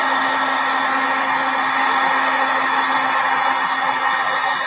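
A heat embossing gun blows continuously, a steady, close, loud whooshing hum with a constant tonal whine and no pauses.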